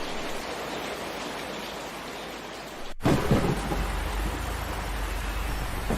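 Steady rain hisses across the ground, then a loud, deep thunderclap breaks in and rumbles on beneath the continuing downpour.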